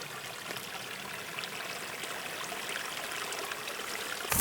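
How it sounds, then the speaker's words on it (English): A creek fed by melting snow runs beside a mountain meadow near Blue Lakes Campground in California. It gives a continuous, even rush of flowing water, fairly soft and steady throughout. "There's a creek by it."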